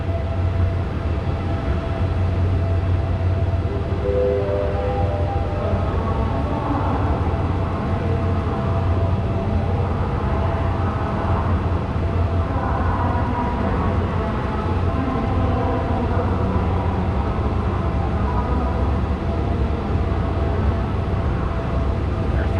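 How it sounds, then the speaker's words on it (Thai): A long passenger train sits at Hua Lamphong railway station in Bangkok, giving a steady, loud low rumble and engine hum with faint tonal whines and station clatter throughout, no talking. "รถไฟขบวนนี้นี่ยาวเลยนะ"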